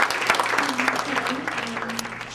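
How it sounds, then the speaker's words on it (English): A small group at a 21st birthday party claps in a lively patter of hands, close by, with voices talking over and around the clapping. "Can you make a good clapping?"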